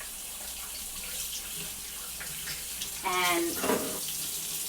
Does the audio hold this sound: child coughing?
no